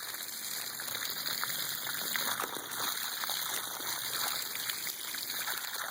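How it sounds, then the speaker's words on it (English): A regular garden hose sprays water backwards through a clogged inline sediment filter, a steady close hiss and splatter of rushing water that holds constant throughout, with no voices. "I'm just using a regular hose and washing it out"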